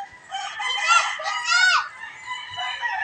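Gamecocks cluck and a rooster crows loudly nearby, the calls overlapping in a busy fighting-cock coop.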